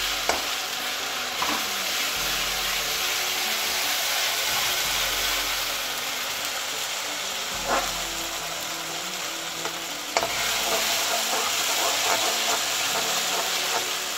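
Spice paste for Himachali tardi sabzi frying in a pan, a steady close sizzle with occasional scraping stirs and clinks, no talking.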